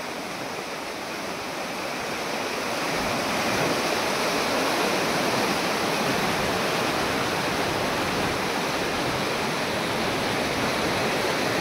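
The flooded Ghod river at Kalamb rushes in a dense, continuous roar of fast water. It is loud and unbroken, swelling slightly after the first few seconds, with no voices.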